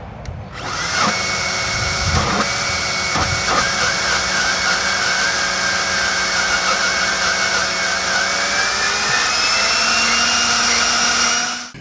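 An EGO leaf blower driven by a cheap BLDC controller spins up to a loud, steady whine with layered motor tones, runs continuously close by, and shifts pitch slightly before cutting off.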